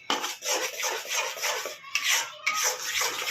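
A spoon stirs ghee and oil together in a pan over a low flame, making rhythmic scraping and rubbing strokes close up, roughly one every half second with short pauses between them, and no voices.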